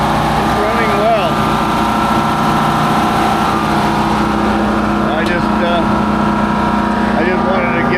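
A little four-cylinder marine engine, a MerCruiser-type unit with a Chevrolet rear mount, runs steadily as a backup generator, a continuous loud mid-pitched drone throughout while someone talks over it.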